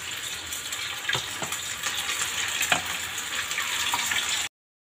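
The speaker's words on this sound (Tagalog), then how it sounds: "ready to fry na yung ating isda" Corn-flour-coated fish frying in hot oil gives a steady, moderately loud hiss dotted with sharp crackles and pops throughout, then stops abruptly near the end.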